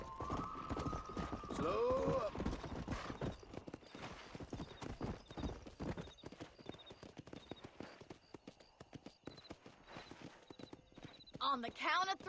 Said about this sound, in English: A gente vai apostar uma corrida de cavalo.